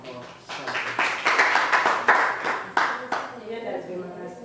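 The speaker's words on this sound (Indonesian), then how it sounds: "Kita berikan tepuk tangan untuk kelompok 1" Classroom applause for a student group after their presentation, a burst of many hands clapping in uneven rhythm that swells and then fades over a few seconds, with a teacher's voice at the end.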